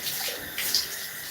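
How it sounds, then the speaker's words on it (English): A tap runs steadily to rinse shampooed hair on wash day, a continuous hissing splash of water close by with small shifts as the stream hits hair and basin. "I don't want to have the water running and wasting"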